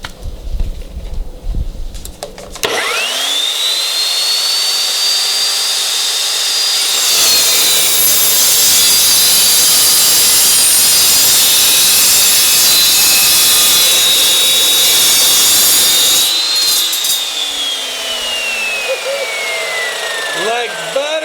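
An Evolution chop saw cuts through metal: the motor spins up, then the blade grinds loudly and continuously through the workpiece for about ten seconds before spinning down, very close and dominant.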